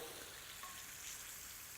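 Deep-fat frying of golden, crispy cheese-filled bites gives a steady, faint hiss and sizzle with no talk over it.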